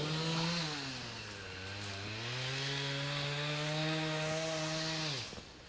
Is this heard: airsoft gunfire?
no